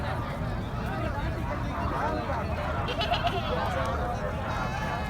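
Goats bleat now and then against a busy, noisy crowd at an outdoor goat market in Mirpur Khas, their wavering cries rising above a constant murmur of voices.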